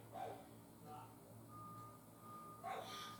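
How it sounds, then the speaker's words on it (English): A tow truck backs up next door, giving faint, distant reversing beeps, a few evenly spaced tones under a low hum, with a voice briefly talking nearby. "Oh, we have a tow truck coming next door to, I guess somebody's got some car issues"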